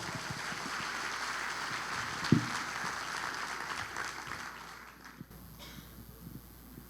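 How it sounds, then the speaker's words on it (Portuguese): A church congregation gives applause to the Lord at an activation conference, a soft, distant wash of scattered clapping that slowly thins out and fades. "Dê um aplauso ao Senhor."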